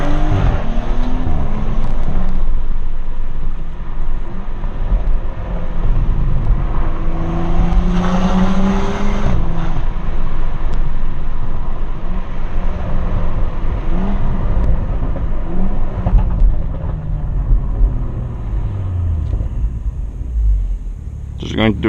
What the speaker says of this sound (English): I hope you guys can hear the exhaust a little bit better that way